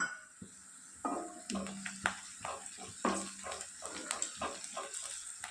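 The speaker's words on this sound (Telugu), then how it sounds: "ఉల్లిపాయ ముక్కలు వేసుకోవాలి వీటిని బాగా వేయించుకోవాలండి" Onion pieces frying in oil with cumin in a home kitchen pan, a low sizzle under repeated sharp clinks and scrapes of a spoon stirring, with someone speaking over it.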